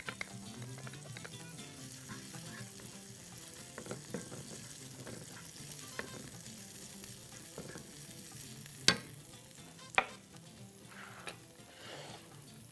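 Small pieces of garlic and finely chopped red pepper frying in a pan with a soft steady sizzle and stirring, plus a couple of sharp utensil clicks near the end.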